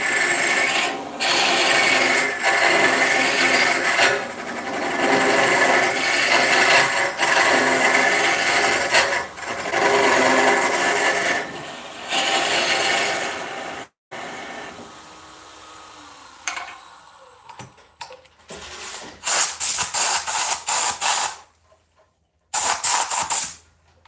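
A gouge hollows out a mulberry vase spinning on a wood lathe, giving a steady loud rasping scrape in long passes with brief pauses, then sputtering, choppy cuts toward the end, no voices.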